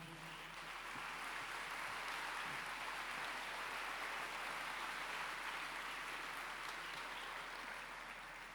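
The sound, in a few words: congregation applause in church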